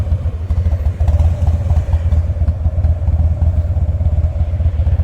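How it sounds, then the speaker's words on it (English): A small moped engine puttering steadily close by, its buzzing, clattering note holding fairly loud and even as it rides past, with no voices over it. "it's another guy riding a little moped"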